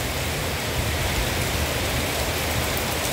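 Steady rain falling outdoors, a dense even hiss with soft low patter, constant and moderately loud, no voices.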